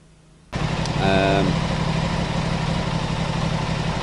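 An Aprilia RS 660 motorcycle, engine warmed up, starts idling abruptly after a short quiet moment, then holds a steady, loud mid-pitched burble with a brief rising whine early on, continuous and close.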